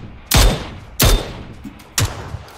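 Three sharp, loud gunshots ring out in a video game, spaced unevenly about a second apart, each a hard crack with a short echoing tail.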